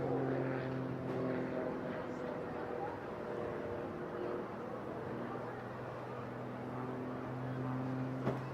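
A Tutor training aircraft flying at the Eastbourne International Airshow, a steady droning propeller engine in the distance, with a commentator's voice over the airshow's sound system.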